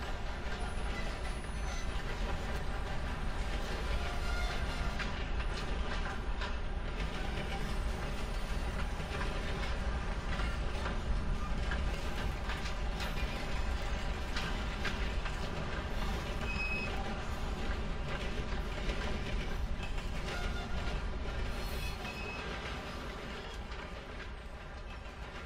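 A train rolls past in the open-world game Red Dead Online, a steady, loud rumble of wheels and rail clatter that holds for the whole stretch and eases slightly near the end, with no talking.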